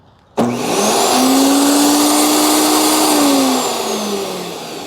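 An Earthwise GS70015 15-amp corded electric garden chipper switches on abruptly after a brief silence and spins up to a loud, steady whine with a strong hum, running continuously and easing off slightly near the end.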